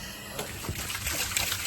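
Water draining out of a Jandy pool cartridge filter, a brief close-up trickle and dribble with small splashes that builds slightly over a couple of seconds.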